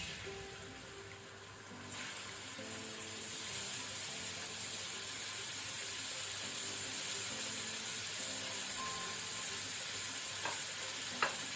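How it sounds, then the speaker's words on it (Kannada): Onion tipped into hot coconut oil in a pan while cooking egg bhurji, giving a steady, close, fairly soft sizzle with faint stirring scrapes and a few light clinks, no voices. "ಎಣ್ಣೆ ಬಿಸಿಯಾದ ನಂತರ ಮೊದಲಿಗೆ ನಾವು ಆನಿಯನ್ ಈರುಳ್ಳಿ ಹಾಕೋಣ"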